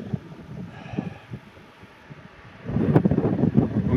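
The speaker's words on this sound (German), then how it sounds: "Hier oben bläst ein frischer Wind" Gusty wind buffeting the microphone on a hilltop with wind turbines at about 1100 metres in Sicily, a low rumbling roar that swells louder and rougher in the second half.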